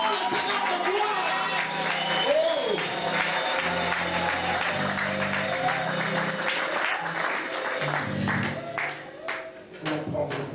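A church congregation applauds together, a steady, dense wash of clapping that carries through the whole stretch, with sustained music or singing underneath and voices mixed in.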